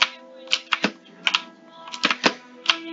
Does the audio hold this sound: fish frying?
no